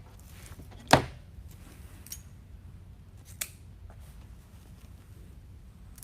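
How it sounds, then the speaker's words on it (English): A single crisp scissor snip cuts ribbon tails on an Easter carrot wreath, close and clear in a quiet room, followed by a couple of fainter small clicks and handling sounds. "let's trim our ribbon tails up"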